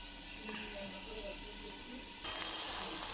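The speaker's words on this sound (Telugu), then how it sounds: "టమాటా మగ్గేంత వరకు ఇలా మూత పెట్టాలి, ఒక 5 మినిట్స్." Chopped tomatoes cook under a lid in a pan for a mango and drumstick sambar, giving a steady low sizzle and hiss that grows noticeably louder and brighter near the end.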